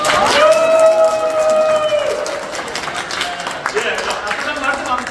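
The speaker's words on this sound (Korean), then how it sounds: "우리 의원님께 큰 환호성과 박수 한번 칩시다" A crowd at a Daegu Suseong campaign event cheers and claps for a parliamentary candidate, a voice carrying over the start before the applause settles into a steady patter.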